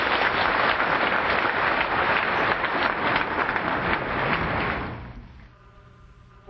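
Audience applause welcoming a teacher fills a hall with dense, steady clapping for about five seconds before tapering off, leaving a quieter room.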